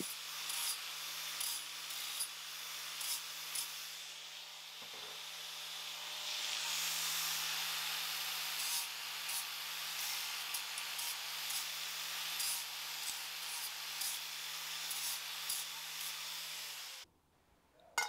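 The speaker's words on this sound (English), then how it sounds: "Use the grinder to clean up any burrs, sharp edges on the end of the cuts you just made." A grinder deburring the cut ends of metal tubing produces a faint, steady motor hum under a hissing, rasping wash that swells midway, ending with an abrupt cutoff.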